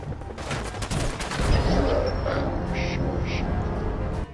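Bursts of gunfire in Fallout 4 crackle in a quick volley of sharp, loud shots early on, followed by scattered pops and a sustained noisy clatter of combat.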